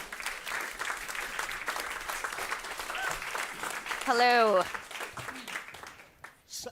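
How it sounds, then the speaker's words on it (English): Audience at a food security and climate event applauds steadily as a speaker is welcomed; a voice briefly speaks over the clapping before it thins out toward the end. "Give him a round of applause, please."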